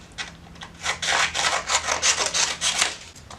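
A chisel is rubbed back and forth on wet and dry sandpaper, producing a quick series of close, scratchy strokes in an even rhythm with no talking.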